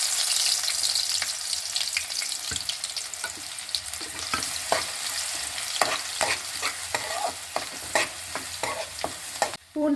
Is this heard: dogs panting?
no